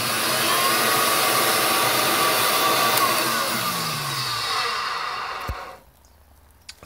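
An Electrolux 612E vacuum cleaner motor runs with a loud, steady whooshing roar that slowly winds down, then cuts off near the end, leaving a near-silent moment and a small click.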